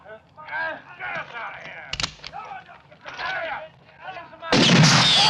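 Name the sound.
gunshots fired in a western movie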